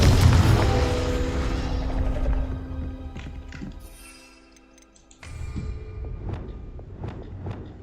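Confringo spell blasts in the Hogwarts Legacy video game: a heavy, booming rumble up front that fades into a lull, then a fresh burst followed by sharp crackling clicks and debris-like ticks.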